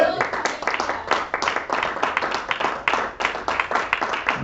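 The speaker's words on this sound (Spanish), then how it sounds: "Dale un aplauso al rey, pero hazlo fuerte" Church congregation at a Sunday service clapping hard and fast together in a steady, dense rhythm, close and loud.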